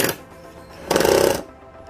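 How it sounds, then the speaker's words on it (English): A power drill drives a large screw while a mirror door is being installed, giving a short loud burst of whirring and grinding against the wood after a quieter start, then fading out. "We screw it down."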